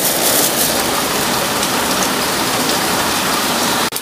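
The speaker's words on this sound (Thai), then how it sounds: "ฝนตกเพื่อน" Steady, loud rain pours down outdoors beside a home kitchen where wide rice noodles are about to be stir-fried in a hot wok, a dense continuous hiss with no voices.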